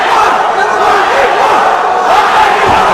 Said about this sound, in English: And the crowd is coming alive here.